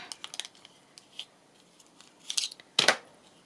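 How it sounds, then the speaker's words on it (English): Scissors snip through paper being cut into pieces for folding into an accordion-style journal, a few quick light snips early, then two louder, sharper cuts near the end, close up with no talking. "I'm just going to do some pieces like this and cut them down just so that they're manageable for folding."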